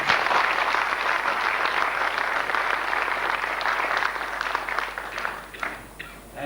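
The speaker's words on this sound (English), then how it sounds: "Let us all join together in giving a big applause to Pant-ji for this great effort." An audience at a formal lecture on India's development applauds. The clapping is dense and sustained and stays fairly loud throughout, thinning and tapering in the last second or so.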